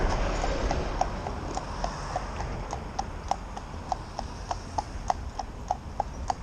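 A cob horse walks with steady, evenly spaced hoof clops that ring clearly over a low outdoor rumble, each step a crisp knock with no voices.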